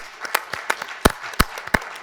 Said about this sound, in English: Let's give our panelists a great round of applause.